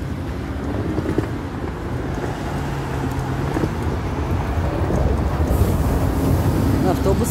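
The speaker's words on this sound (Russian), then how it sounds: "Автобус пошел 11-й." A number 11 city bus pulls away on a street in Poland, its low engine rumble blending with broadband traffic and wind noise, steady and moderately loud throughout, with a person talking faintly over it.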